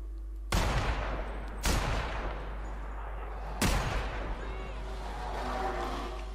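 Deadeye assault rifle fire in The Outer Worlds, a PC shooter: three loud separate bursts of gunshots, each with a sharp onset and a long decaying tail, over a steady low game background.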